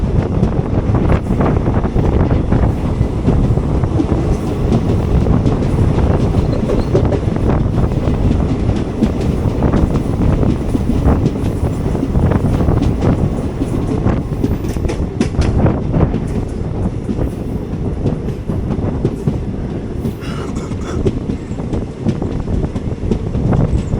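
Inside a moving passenger train just after leaving Kollam, running beside Paravur lake toward Paravur station: loud, constant rumble and rattle of the carriage with rhythmic clickety-clack of wheels on rail joints and heavy wind buffeting the microphone.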